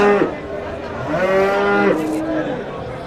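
A cow at the Shohidon cattle market lets out a single long, loud, close moo that rises and falls, with faint market background behind it.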